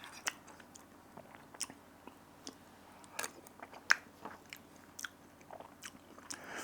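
Someone chewing a mouthful of chicken and bacon pasta in a creamy sauce, giving close, soft, irregular squishy bites and mastication sounds, quiet and alone without any voices.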